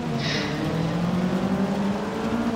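Race car engine in a Forza 6 video game race: a steady, loud droning engine with rising revs holds throughout, with no talking.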